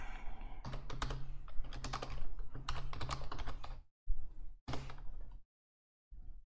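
Fast, steady clicking of keys on a computer keyboard during a Vim editing session, close and fairly quiet, in bursts that break off into short silences.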